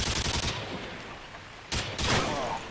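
A sentry gun in Call of Duty: Modern Warfare 2 fires loud, rapid automatic bursts, a rattling volley at the start, a pause, then another close sustained burst near the end.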